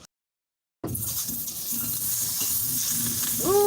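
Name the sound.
cold butter sizzling in a hot frying pan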